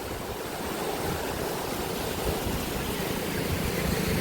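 Floodwater rushes in a steady, loud broadband roar after heavy monsoon rain, continuous and close with no voices, like a fast stream or small torrent pouring through a channel.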